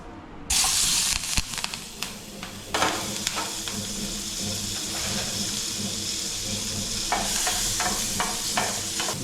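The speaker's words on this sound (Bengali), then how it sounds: "লঙ্কাগুলো ফুটছে দেখতে পাচ্ছ।" Butter and chopped chilies sizzle and crackle in a hot pan while a masala omelette fries, a steady close sizzle that jumps in loudness after a moment and keeps going with sharp pops.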